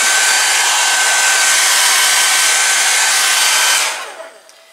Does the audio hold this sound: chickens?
no